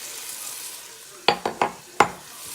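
Garlic cloves and ground ginger sizzle in a hot pan, with a steady frying hiss broken by four sharp scraping stirs of a utensil close by.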